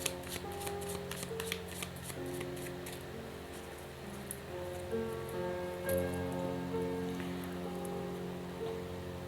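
Tarot cards shuffled and drawn by hand, a soft papery riffling and sliding that continues steadily with quick flicking bursts, close and fairly quiet over a faint background hum.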